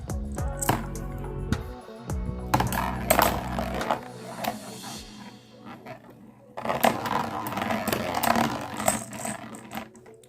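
Two mini Beyblades built from Lego, one balance type and one defense type, clatter and scrape as they spin and collide in a close, busy burst of plastic rattling, clicking and whirring.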